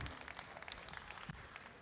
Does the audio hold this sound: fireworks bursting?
no